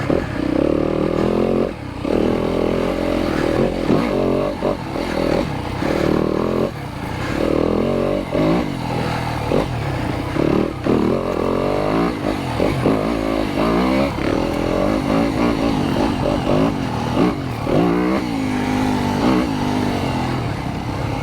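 Yamaha YZ250FX dirt bike engine cruising in second gear on single track, a buzzing four-stroke drone that rises and dips with throttle, close and continuous with occasional clatter from the trail.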